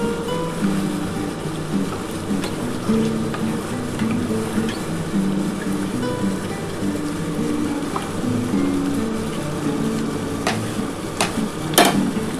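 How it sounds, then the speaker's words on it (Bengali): Capsicum sautéing in a pan for chilli chicken: steady, loud sizzling and frying throughout, with scattered light scrapes and taps from stirring. "একটুখানি ক্যাপসিকামটা দিয়ে কষিয়ে নিই।"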